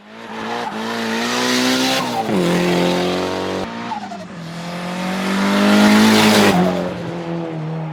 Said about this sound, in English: AG did a few test laps just to find the problems and the quirks with the car